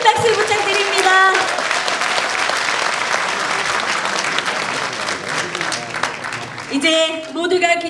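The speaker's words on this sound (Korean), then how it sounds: "네, 큰 박수 부탁드립니다." Loud, sustained applause from a talk show audience fills the room, steady clapping with some crowd noise and music tones at start and end.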